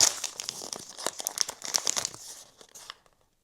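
A crinkly plastic toy package torn open by hand, with rapid crackling and rustling up close that tapers off and falls silent after about three seconds.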